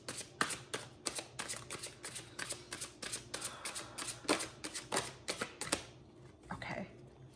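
Tarot cards are shuffled close up in a quick run of crisp riffling bursts, each a sharp papery flutter, before it settles to near quiet at the end.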